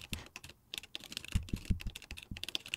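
Fingers type on a computer keyboard while writing Rust code, a dense, close run of quick clicking keystrokes with brief pauses and a few heavier thumps, no talking.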